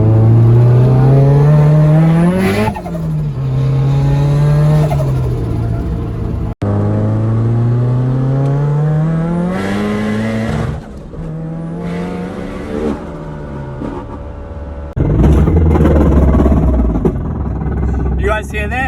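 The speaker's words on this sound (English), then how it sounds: "You guys hear that? Just blew the diff." 400HP SR20DET Nissan 180SX revving hard through rising gear pulls, loud and close, before the differential blows with a sudden break in the engine note and a rougher, noisier roar afterward, with people talking.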